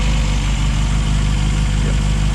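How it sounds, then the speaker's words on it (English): A Mini race car engine idling high on choke in freezing weather around 37 degrees, a loud, steady, close rumble with a fast even pulse and no speech. "she fired up pretty good for a race motor. Got high idle because we're on the choke"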